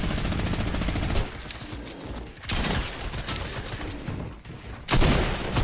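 Fortnite gunfire: dense bursts of rapid shots come in three loud blocks separated by brief quieter gaps, close and harsh, with almost no talking.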